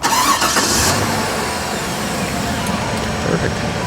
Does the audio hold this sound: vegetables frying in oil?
no